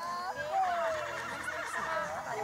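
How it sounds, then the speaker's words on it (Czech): Horse neighing at a riding event, a rising and falling whinny heard fairly close over crowd murmur and background voices. "Jako další se představila Eliška Šedinová na koni Bankier"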